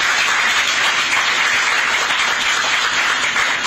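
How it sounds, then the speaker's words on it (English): A crowd at the flag-off ceremony for Imo Digital City applauds, a steady wash of clapping from many people that holds at an even level throughout, with no talking. "One more round of applause for all of the participants"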